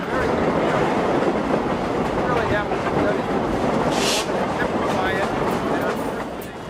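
A historic California Western Railroad train, the Skunk Train, rolls along the tracks with a steady loud rumble and rattle of cars, a dense continuous roar with no clear pauses.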